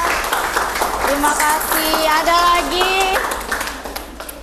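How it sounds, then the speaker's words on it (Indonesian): Classroom applause for a student during a thermochemistry chemistry lesson: a steady patter of many hands clapping for several seconds, mixed with voices and fading slightly toward the end. "boleh tepuk tangan untuk Nela."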